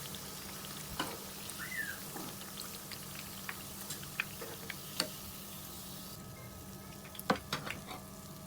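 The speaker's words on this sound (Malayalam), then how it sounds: "മീഡിയം ഫ്ലെയിമിൽ വെച്ച് 2 ഭാഗവും ഗോൾഡൻ ബ്രൗൺ നിറാകുന്നത് വരെ ഫ്രൈ ചെയ്തെടുക്കണം" Chicken parippu vada fry in oil over a medium flame, giving a quiet, continuous sizzle broken by occasional sharp pops and ticks.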